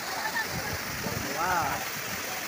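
Water rushes down a mountainside in a steady, loud flow near a hill village. It makes a continuous broadband roar, and a voice briefly exclaims over it.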